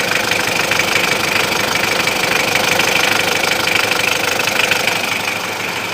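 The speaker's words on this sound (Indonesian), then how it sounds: "jadi ini mesinnya yang sudah setelan kasar ya friend" A car engine with rough tuning idles steadily and loud, a dense knocking rumble with constant vibration, close by and alone.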